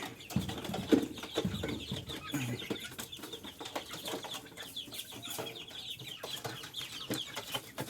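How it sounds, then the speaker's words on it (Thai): Young Burmese chickens cluck and peep busily while feeding, with scattered pecking and rustling noises throughout, close by and fairly quiet. "ให้อาหารลูกไก่ครับเช้าเช้า แย่งกันกินใหญ่เลยครับ"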